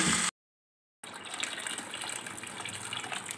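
Water gushes steadily into a pot of rice for mung dal khichdi, a close, continuous pouring sound that follows a brief cutoff.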